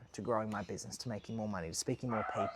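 A dog barks and yips repeatedly somewhere in the room while a person talks steadily over it in the foreground.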